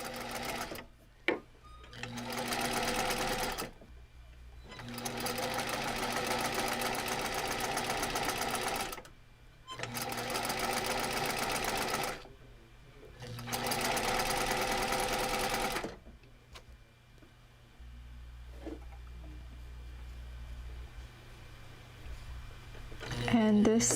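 A sewing machine stitching a seam runs in four sustained loud bursts with brief pauses between them, then falls quiet while a low hum continues toward the end.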